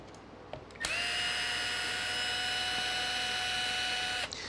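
Power tool removing bolts from a Traxxas Rally 1/10 RC car chassis, a single steady high-pitched whirring burst of about three and a half seconds, fairly quiet and close, after a few small clicks.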